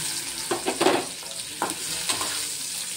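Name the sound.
stuffed okra (bhindi) sautéing in hot oil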